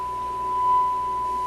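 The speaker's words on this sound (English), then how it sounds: "Signal generator. There it is, loud and clear." A steady, pure signal-generator tone plays through a Grundig Type 238 W valve radio, holding unbroken at one pitch over faint radio hiss, loud and clear with no speech.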